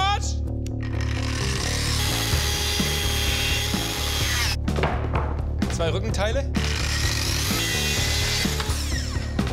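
A saw works wood for a chair and table build, giving steady, loud, rasping strokes with power-tool buzzing that runs the whole time, while people talk over it.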